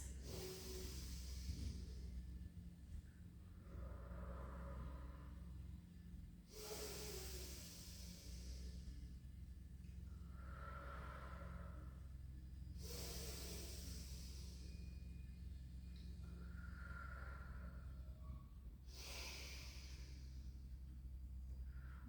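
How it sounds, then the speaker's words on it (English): Four slow, deep breaths during a Pilates session, each a long audible inhale followed by a softer exhale, evenly spaced, close and fairly quiet over a low background hum. "Take 4 deep in breaths and out breaths."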